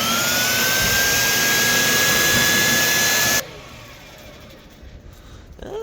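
A Ryobi 10-inch table saw, freshly unboxed, runs at a loud steady whine with a high tonal note, then cuts off abruptly and spins down quickly under its brake, leaving a faint low hum.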